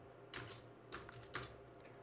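Fingers type a city name on a computer keyboard, a few quiet clusters of quick key clicks spread across the stretch with short pauses between bursts.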